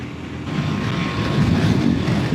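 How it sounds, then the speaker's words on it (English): Steady, loud wind roars and buffets the microphone on an open road during a ride, a constant rushing noise with slight swells and no speech. "So this open road ahead, to me that just means lots of wind."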